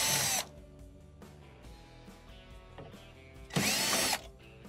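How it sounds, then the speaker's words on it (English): A power drill spins out the 5/16 screws that hold an ice maker cabinet to its base, with two loud bursts of whirring, one at the start and one near the end, and quieter mechanical handling noise between them. "we're going to remove the 2 5/16 screws holding the cabinet to the base"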